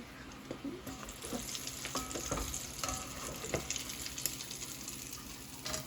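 Salted fish fries in hot oil until crispy, a continuous close sizzle and crackle with brief clinks and stirring noises on top.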